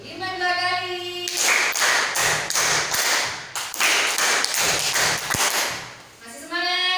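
A class claps a patterned rhythm in unison, several quick bursts of hand claps and taps over a few seconds, with a teacher's voice just before and after.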